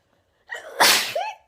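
One close, loud human sneeze with a short breathy intake, then an explosive burst fading into a trailing voiced tail, followed by the onset of another breath.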